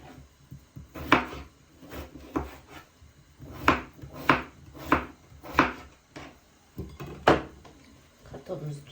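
A knife chops potatoes into medium-sized chunks on a board for kuyrdak, striking in a loose, regular series of dull knocks about every half second, close and clear.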